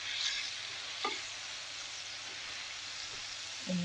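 Fish and tofu frying in a pan with salt added, a steady close sizzle with occasional scraping clicks as the pieces are stirred.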